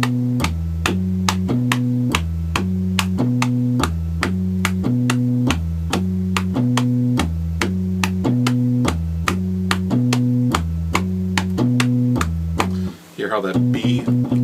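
Hammond organ playing a funky syncopated three-note bass line from a tune, a steady repeating low riff with a percussive click on each beat, loud and alone for most of the passage.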